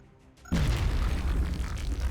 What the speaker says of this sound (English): let's have Adam use a grenade here to improve the odds